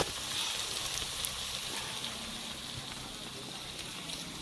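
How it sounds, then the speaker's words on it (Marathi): Mint leaves frying in oil in a pan, giving a steady, close hiss and crackle that runs continuously without pause. "थोडासा पुदिना, थोडंसं आपण असंच तेलामध्ये भाजून घेऊ"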